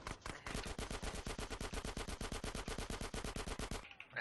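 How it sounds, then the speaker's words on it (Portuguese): Rapid machine gun fire from the video game GTA San Andreas, a sustained loud burst of evenly spaced shots lasting several seconds, with no talk over it. "Ai, tá me metralhando."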